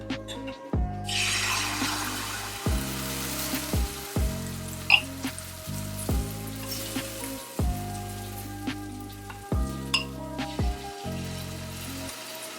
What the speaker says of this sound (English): I just needed to let them stay on the pan a little while longer